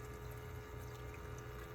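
A small eCozy IM-BS260C countertop ice maker draws in water with a steady, low pumping hum and faint watery trickle, continuous and close throughout.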